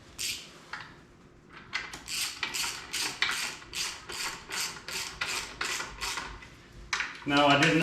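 A ratchet tightens transmission bolts on a VW Beetle fitted with a Subaru WRX engine, making a close, loud run of about a dozen evenly spaced clicking bursts with brief pauses between strokes.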